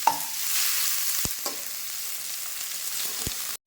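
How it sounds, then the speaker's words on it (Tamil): Ridge gourd peel sautés in a pan, a continuous close sizzle broken by a couple of sharp spatula knocks before it cuts off. "இதை மாதிரி நல்லா வதக்கிக்குவோம்"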